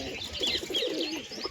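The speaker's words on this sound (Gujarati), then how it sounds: "બધા કબૂતર આપણા અહીંયા મસ્તીથી બેઠા છે" Several pigeons sit together and coo softly and continuously nearby, low burbling calls overlapping with faint chirps and no voices.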